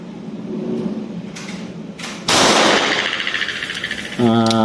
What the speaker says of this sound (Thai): ยิงด้วยมือซ้ายครับแต่เ่อา์ซิงเกิลนะครับระยะประมาณ 15 เมตรครับ